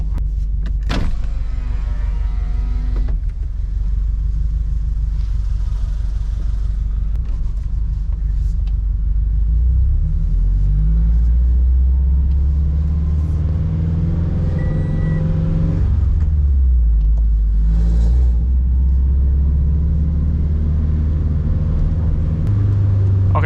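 A wrecked Subaru BRZ/Toyota 86 with its engine running, a steady low rumble held throughout with a couple of slow swells in pitch, heard close and alone with a faint whirr of a power window early on.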